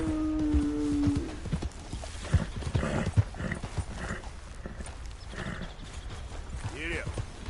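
A horse's hooves clip-clop in a steady rhythm beneath a busy mix of voices and a brief whinny-like tone near the start, the footfalls moderately close but partly masked by talk.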